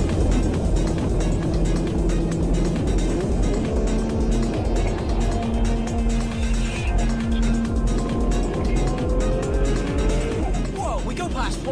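A tuned Mitsubishi Evo drives hard at speed, its engine droning loudly and steadily throughout with rising and falling tones and road roar, while someone speaks over it.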